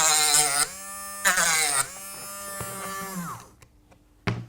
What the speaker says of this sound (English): So I used a small Dremel to get most of it off.